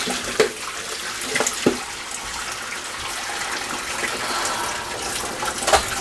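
Hot water poured from a kettle over silver chains and necklaces in a bowl, a continuous bright splashing pour with a few sharp clinks, fairly close and alone without talk.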